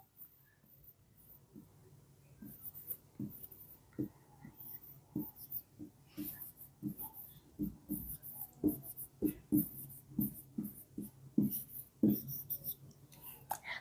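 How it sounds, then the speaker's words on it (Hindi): Pen or marker writing out an algebraic expression for a Class 8 maths lesson, giving a steady series of short, soft scratching strokes close by, growing a little busier toward the end, with no talking over it. "जल्दी से मैं एक अलजेब्रिक एक्सप्रेशन लिख देती हूँ।"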